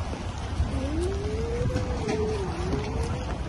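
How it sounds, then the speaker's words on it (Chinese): Heavy rain pours steadily outdoors around a boat pier on the way to Kangaroo Island, a dense continuous hiss throughout with a faint wavering tone drifting through the middle. "好大雨啊！"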